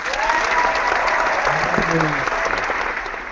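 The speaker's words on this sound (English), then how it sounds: "So I think we should give that a round of applause" Applause from a small podcast audience, steady and fairly close, running throughout with some faint tonal sounds underneath.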